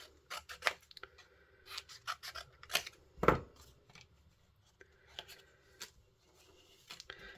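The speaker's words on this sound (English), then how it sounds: "Right, let's cut these out." Scissors cutting out the paper pieces of a bee-themed shaker card, a scattered run of crisp snips and paper rustles, close and fairly quiet, with one louder crunchy cut in the middle.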